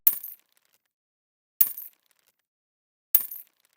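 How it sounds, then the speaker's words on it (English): Coins thrown onto a pile of other coins, used as a money bag percussion sample: three sharp, bright jingling hits spaced evenly apart, each a crisp metallic splash with a short rattling tail, with silence in between. "Sounds like a tambourine, but again, I think it's coins being thrown on top of other coins."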